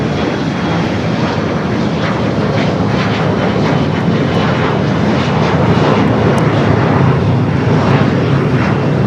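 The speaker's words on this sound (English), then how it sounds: "Asiana A350 900." An Asiana Airbus A350-900 jet airliner at LAX gives a steady, loud, continuous engine roar that holds evenly throughout with no talk.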